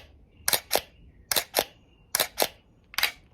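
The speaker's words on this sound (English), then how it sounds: "For long exposure, your shutter goes like this." Camera shutter firing slowly on a long exposure, each opening and closing as a pair of crisp mechanical clicks, four pairs repeated at an even pace, close and clear with no talking.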